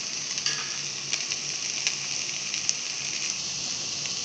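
Okra (ladies finger) fries in an open pan, giving a steady close sizzle with faint crackles and occasional light stirring taps throughout.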